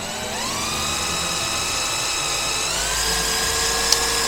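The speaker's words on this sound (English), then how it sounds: "This drill bit's quite a bit sharper, it appears." A power drill whines loudly and steadily, its pitch shifting slightly as the sharp bit bites into aluminum, with a brief click near the end.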